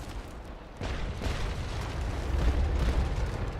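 Cannons fire in the naval video game Naval Action Legends during a frigate duel. A deep, rumbling boom swells and stays loud and sustained, with no clear separate shots.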